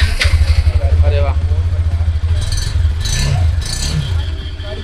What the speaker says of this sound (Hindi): लेकिन इंजन इसका बहुत बढ़िया, इंजन की आवाज़।